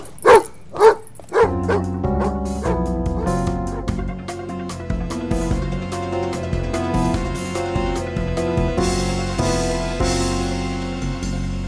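A dog in an audio drama gives three sharp barks close by, then music takes over and continues underneath.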